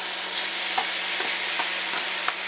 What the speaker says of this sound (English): Let that get nice and hot, and then I'm going to brown off the meat.